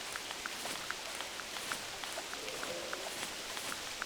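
Rain falls steadily in the hunting video game The Hunter Classic, a soft even hiss with scattered light ticks and patters, faint and continuous with no talk.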